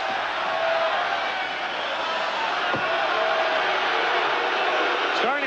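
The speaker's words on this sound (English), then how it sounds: "crowd is booing because the bell sounded" Boxing arena crowd at the McGuigan vs. Pedroza fight booing as the bell sounds before the fourth round, a broad sustained roar of disapproval under a commentator's voice.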